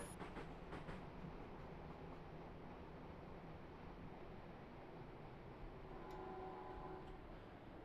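A train rolls and coasts along the rails of the Mittenwaldbahn in a train simulator game, giving a steady, moderately loud rumble with faint ticking clicks throughout and a brief tonal squeal near the end.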